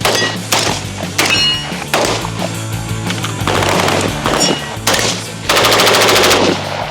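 Rapid loud gunshots from a TT pistol crack in quick bursts, close and sharp, with a fast rattling volley near the end.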